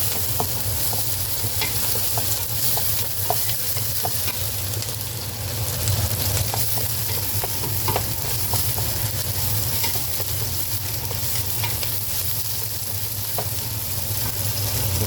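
Onion and then garlic sautéing in a hot pan for chicken tinola, a steady, close sizzle and crackle running the whole time with occasional stirring clinks and scrapes, no voices.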